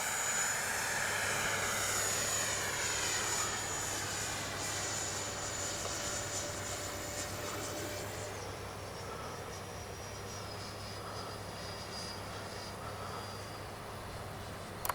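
A Freewing 90mm T-45 RC model jet with electric ducted fan flies overhead, a steady continuous whine that shifts in pitch as it passes, fading slightly in the second half.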